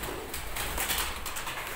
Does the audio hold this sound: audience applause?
no